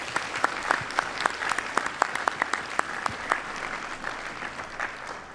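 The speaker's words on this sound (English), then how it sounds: "Delegates, give yourselves a round of applause on this great attendance." Delegates at the 2024 North Dakota FFA State Convention applaud, a crisp, sustained round of clapping from a large hall audience that rises briefly and then tapers off slightly, with no voices over it.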